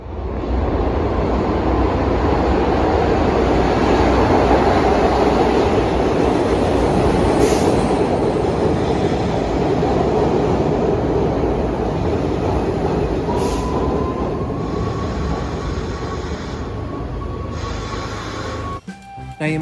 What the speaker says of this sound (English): when our train arrives, I will explain those in more detail.